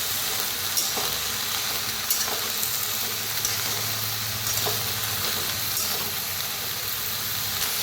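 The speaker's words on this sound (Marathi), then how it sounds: "शेंगदाणे आपण जरा ठेवले होते बघा ते बी वापरूया त्याला भाजून घ्यायचे" Peanuts roast in a pan over a wood-fired village stove, giving off a constant loud sizzling hiss with occasional soft scrapes of stirring throughout.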